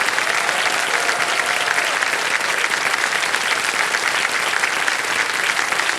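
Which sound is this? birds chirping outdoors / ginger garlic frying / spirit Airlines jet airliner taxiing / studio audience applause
studio audience applause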